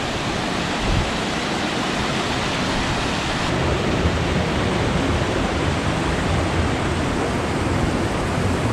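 A waterfall in New Zealand, seen from a suspension bridge, roars as a steady, loud, broadband rush of falling water that fills the whole stretch without pause or change.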